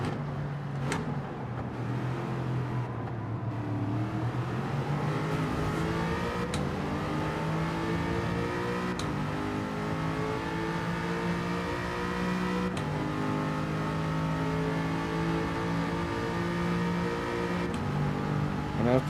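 Gr. 4 race car engines in Gran Turismo 7 rev and accelerate through repeated gear changes, a loud continuous whine rising and dropping over a sprint race, with no talk in the clip.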